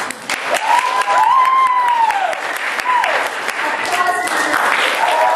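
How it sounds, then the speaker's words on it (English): Audience applauding strongly to register on an applause meter at a performance session, sustained dense clapping with a voice calling out over the crowd. "Applause meter, over here,"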